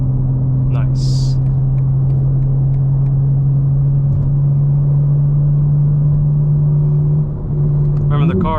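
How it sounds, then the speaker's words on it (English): A 2025 BMW M4 CS on wet roads gives a steady, droning exhaust hum from inside the cabin, holding an even pitch at a cruise for most of the stretch, with brief higher chirps near the start and end. "But now you guys are getting a sense for the exhaust for sure."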